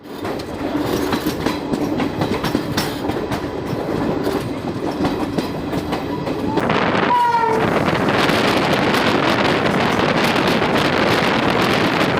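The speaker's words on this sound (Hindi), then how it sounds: "ट्रेन हमारी चल रही है, आप देख सकते हैं, और ट्रेन धीरे चल रही है" A Garib Rath express passenger train rolls slowly along the track, with a steady rumble, wheel clatter and wind buffeting the microphone, growing louder partway through.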